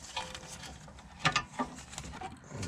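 A ratchet tightens the star bolts on a brake caliper of a 2006-2010 VW Jetta MK5, giving faint, close clicking and a few sharper metallic ticks in short bursts, with no voices.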